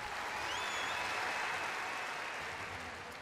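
A partisan home crowd at the Glasgow 2014 Commonwealth Games gymnastics applauds a beam routine, sustained dense clapping from a large arena audience, fairly distant and even throughout, with no speech.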